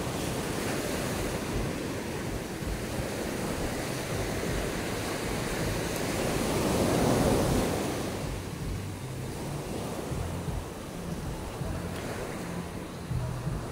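Sea waves roll onto a beach where people swim under a lifeguard's watch, a steady, loud wash of surf with wind buffeting, swelling midway and then easing back.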